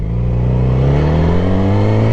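A motorcycle engine revs loudly and steadily up close, its deep droning pitch rising slowly over two seconds with no voices.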